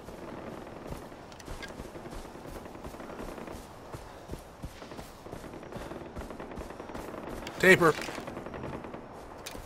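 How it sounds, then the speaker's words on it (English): Gunfire in the video game Far Cry 4: rapid, steady automatic bursts and shots run throughout, with a loud close burst near the end and someone talking over the shooting. "They're shooting."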